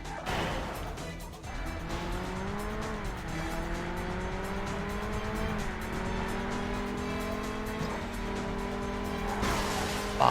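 Tires squeal and engines whine steadily as cars race and skid in the GameCube racing game Burnout, a continuous loud drone with rising and falling pitch and a closing burst.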